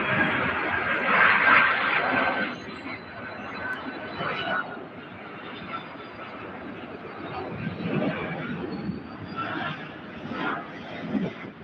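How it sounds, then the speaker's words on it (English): A cargo jet landing at UPS Worldport, SDF airport in Louisville, gives off a steady, loud broadband roar that swells and eases across the whole stretch, with no talking. "it's always nice to see the airplanes flying."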